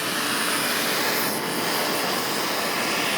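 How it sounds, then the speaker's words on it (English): A steady, broadband whooshing roar of a kitchen exhaust fan running loudly and close, unchanging throughout with no talking. "Let me turn on the exhaust fan."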